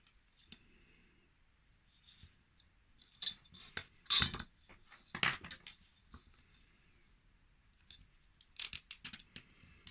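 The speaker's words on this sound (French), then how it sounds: "Et là, je vais découper à 1 cm" Scissors snip and crunch through paper while cutting a scrapbook album page, a run of sharp crisp cuts and rustles clustered in bursts, close and moderately loud.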